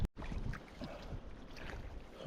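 A kayak glides over Lake Ladoga in wind, with a soft steady wash of water and gusty rumble against the microphone, fairly quiet and with no talking.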